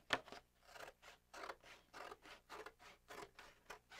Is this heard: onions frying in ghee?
no